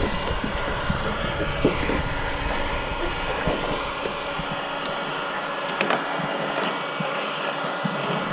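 A heat gun blows a steady, broadband hiss, warming the camouflage wrap film on an Audi RS6 so it can be peeled off; the whir stays even and close throughout, with a few faint clicks and no talking.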